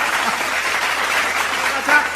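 Steady applause from a crowd at a Hindi comic poetry gathering fills the whole stretch, a dense wash of many hands clapping at even loudness.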